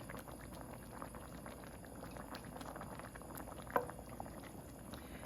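Pasta simmering in stock in a pot makes a continuous soft bubbling and gurgling, quiet and close, with one brief clink partway through and no speech.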